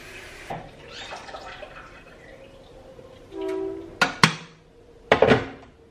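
Water runs briefly from a tap into a kettle, followed by a few sharp clanks and clicks of metal and handling noises, close by with no talking.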